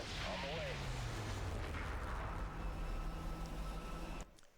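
An explosion in the video game Rage, a loud, deep rumbling blast that roars on for about four seconds before cutting off abruptly.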